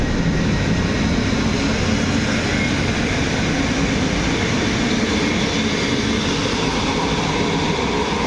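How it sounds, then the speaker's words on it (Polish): A train rumbles steadily through Łowicz Główny station in Poland, a continuous broad roar of wheels and carriages that stays loud and unbroken, with no voices on top. "Pociąg."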